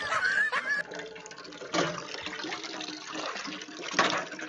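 Water from a household tap trickles and splashes into a basin, a faint uneven patter with small surges, quiet throughout.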